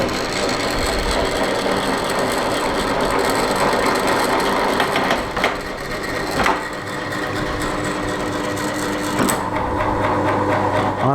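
A tapping attachment cuts a thread into a wheel balancing ring for a Herbert Junior Mk2 surface grinder, giving a steady, close mechanical grinding and clicking churn with a few sharper knocks.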